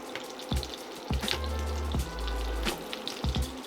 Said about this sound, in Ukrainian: Додаю масла, потроху розтоплюю.